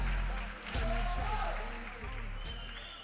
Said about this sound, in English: Sounds like the crowd's excited about this one.